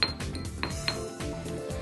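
Gum arabic mixed with boiling water being ground in a mortar for paint binder, giving a run of close clinks and scraping knocks on a hard bowl with no talk.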